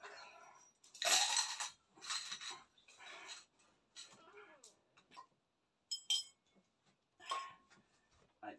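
Glassware and dishes clink and knock as someone rummages through household items, in scattered short bursts with quiet gaps between them, while voices talk intermittently nearby.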